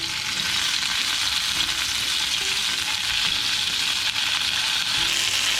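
Chicken pieces for chicken teriyaki fry in a pan, a steady loud sizzle with hissing crackle that continues evenly throughout, no voices over it.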